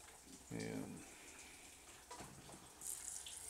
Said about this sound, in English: fill that up with water.